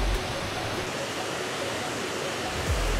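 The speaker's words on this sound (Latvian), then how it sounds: "Pēc neliela kāpiena lejā es beidzot esmu sasniegusi šo ūdenskritumu" A waterfall in Ubud, Bali roars steadily and close by, a dense, unbroken rush of falling water filling the whole span.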